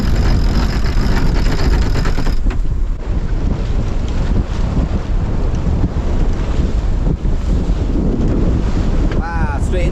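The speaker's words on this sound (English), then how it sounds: "The wind is all over the place." Strong, gusty wind roars across the microphone aboard a sailboat beating upwind on an open-sea crossing, a constant loud buffeting rush blended with waves and spray, with no voices.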